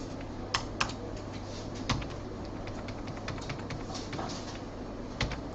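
A computer keyboard clicks as a workgroup name is typed, a steady patter of soft keystrokes with a few louder taps, close up over a low background hum.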